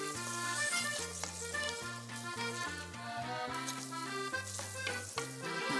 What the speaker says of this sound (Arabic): فوالا تقلى البولي تاعنا